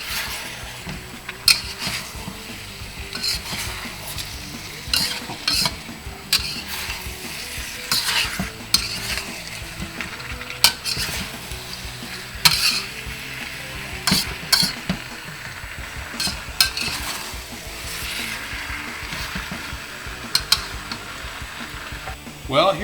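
A spoon stirs a cornstarch-and-water slurry through sweet and sour sauce for pork in a pan. Steady scraping and a soft, ongoing sizzle run the whole time with small clatters from the pan.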